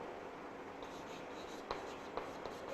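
A marker or chalk scratches out short strokes on a board during a chemistry lesson, faint and close, with a few sharper taps against a low hiss.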